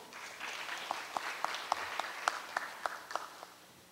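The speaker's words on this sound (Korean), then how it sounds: "큰 박수로 맞아 주십시오." Conference audience applauding as the next presenter on open data and smart data is welcomed to the stage, steady clapping with a few sharper individual claps standing out, moderately loud with no talk over it.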